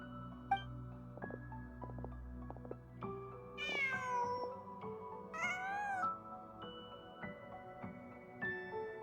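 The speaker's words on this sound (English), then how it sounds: "Huh. Just a cat." Cat meows twice in the Genshin Impact video game, clear tonal calls over a quiet in-game ambience with soft chiming musical notes, no talking.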